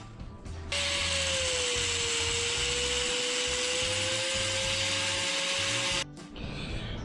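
A power tool cuts a panel out of plastic on a Mega Moto 80 swingarm e-bike build. The tool runs as one steady, loud whine for about five seconds, then stops abruptly.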